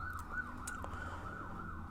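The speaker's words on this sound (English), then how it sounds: "it's police car, ambulance driving by" Police car and ambulance sirens driving past on a street: a wailing, rising-and-falling siren tone repeats steadily over faint traffic rumble, fairly quiet and somewhat distant, with no talking.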